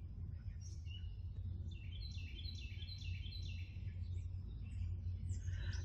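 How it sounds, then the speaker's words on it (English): Outside near a house deck, a loud bird sings a rapid series of repeated bright chirps, a clear phrase of about seven notes over a low background rumble. "I have a very loud bird."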